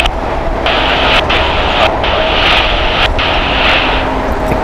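A SkyWest jet takes off from runway 25 right at LAX, its engine roar a loud, steady broadband rush that holds throughout with slight swells, no voices over it.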